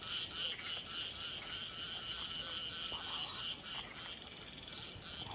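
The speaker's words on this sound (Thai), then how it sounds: "เสียงกบเสียงเขียดเยอะมากพี่พี่ชาย" Many frogs croak together at night in a dense, continuous chorus, with a steady high insect or cricket buzz layered over it.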